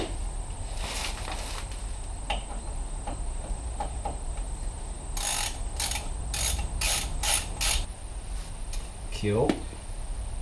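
A ratchet tightens bolts on the front brakes of a Mk6 Ford Transit van, with bursts of rapid clicking and metallic turns against a steady background hum, nearby and fairly loud.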